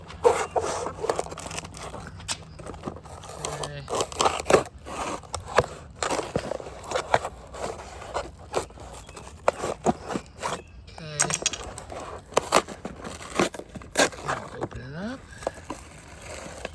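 Plastic packaging around a mail-order Dwarf Orinoco banana plant crackles, rubs and scrapes as it is opened one-handed, in irregular rustling bursts with someone talking intermittently over it.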